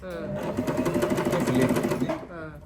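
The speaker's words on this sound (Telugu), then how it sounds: "ఇప్పుడు చూడండి మిషన్ తిరుగుతుంది" A foot-pedal-controlled sewing machine runs steadily at close range, its fast rhythmic needle clatter continuous for about two seconds, with a voice talking over it.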